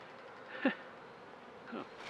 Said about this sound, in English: bees are fighting here